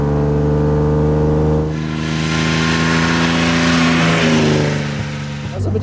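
A 1938 Alvis Speed 25 engine revs up from inside the car, loud and close, its pitch climbing steadily through a long pull before easing off at the end, with brief speech mixed in.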